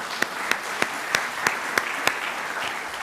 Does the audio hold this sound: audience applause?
yes